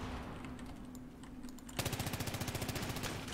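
A teammate's automatic weapon firing in Battlefield 3: after a low background hum with scattered clicks, a fast, evenly spaced stream of loud gunshots begins and rattles on steadily to the end.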